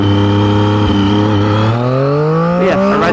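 A Triumph Street Triple motorcycle engine heard while riding, droning loud and close with a smooth tone that rises steadily as it accelerates.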